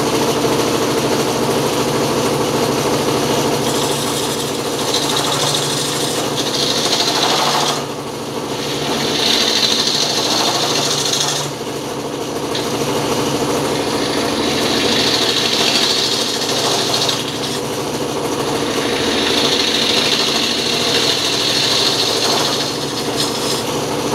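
A wood lathe with a three-wheel steady rest engaged spins at about 900 rpm. It gives a continuous close mechanical hum with a steady low tone and a faint rattle, while brighter hissing swells come and go.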